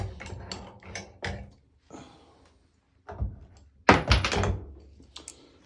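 A loosened metal cylinder pulled from its mount on a homemade jeweler's wire draw bench, giving scattered clunks, ratcheting clicks and a loud metallic knock near the end, close up.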